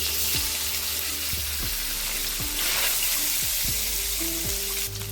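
Steady, loud sizzling of paneer frying in a hot pan, with repeated clinks and scrapes of a utensil stirring throughout.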